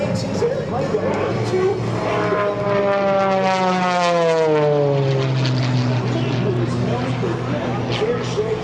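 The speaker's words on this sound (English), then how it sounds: "that Hartzell propeller, powered by a right-wing Thunderbolt IO-5 engine, accelerates his airplane" A propeller aerobatic airplane with a Hartzell propeller dives and roars overhead at an air show, its engine pitch sweeping downward as it passes close by, with a voice talking over the sound.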